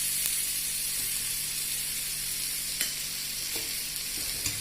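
Semolina uttapam with vegetables sizzling in a little oil on a pan over medium heat: a steady, close frying hiss broken by a few soft clicks as the pancake is turned.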